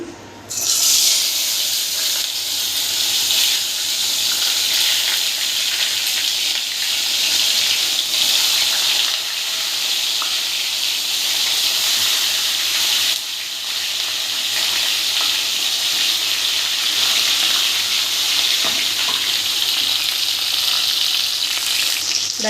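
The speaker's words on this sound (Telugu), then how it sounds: "ఇప్పుడు ఇవన్నీ ఆయిల్ వేడైంది ఆయిల్లో వేసుకోవాలి" Stuffed eggplants go into hot oil and fry with a loud, close, continuous sizzle. The sizzle holds steady for over twenty seconds, with a brief dip midway, and no one speaks over it.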